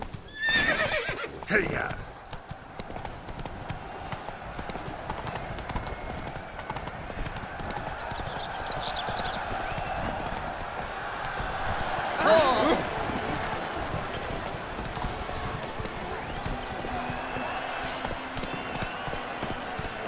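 A horse gallops in The Witcher 3 video game, with a loud whinny near the start and then continuous rhythmic hoofbeats over a long stretch. A man briefly urges the horse on at the beginning.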